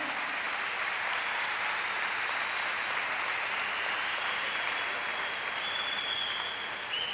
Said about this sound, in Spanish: un aplauso para nuestros compañeros de traducción simultánea